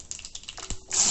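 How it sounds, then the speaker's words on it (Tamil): Mustard seeds splutter in about three spoons of hot oil in a cooking pan, a quick run of sharp crackles and pops ending in a louder sizzle. "இப்போ கடுகு வெடிச்சிருச்சு."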